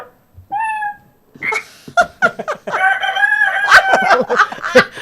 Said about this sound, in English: Something with a rooster crowing